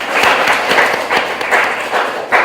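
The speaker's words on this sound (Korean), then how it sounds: "박수." A small group claps briefly in a Bible study class, several short bursts of hand clapping in an uneven rhythm, close and fairly loud.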